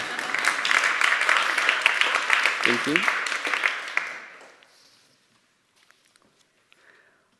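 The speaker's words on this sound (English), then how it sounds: "I think that needs a clapping." Conference audience in London gives a round of applause, dense clapping for about four seconds that fades out, with a brief spoken thanks partway through.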